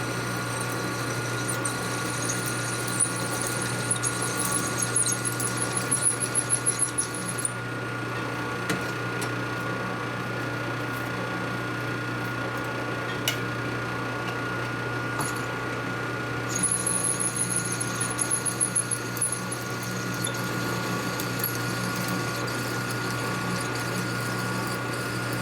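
A power drill bores into a part on a custom Harley chopper in a workshop, giving a steady motor hum with a high whine that stops midway and then returns, with faint metallic ticks.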